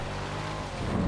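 A steady, low engine rumble from a Raptor pickup truck in a video game drones throughout, idling and revving slightly toward the end, loud and close with no talking.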